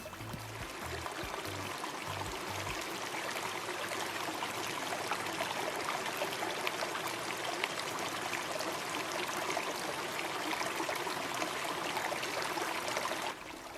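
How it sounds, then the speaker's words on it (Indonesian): Water runs steadily into a bathtub as a constant broadband rushing stream, close and even throughout, with a few low tonal blips near the start. "Coba perhatikan air yang sedang mengisi bak mandi tersebut."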